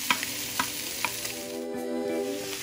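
Flaked tilapia fish sautéing in a pan, a steady soft sizzle with a few light utensil clicks as it is stirred, heard alone without voices.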